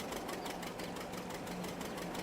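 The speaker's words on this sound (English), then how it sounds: "I left the Hercules running." A Hercules tractor engine idles in a farming game, giving a steady, fast mechanical knock over a constant drone, close and unaccompanied.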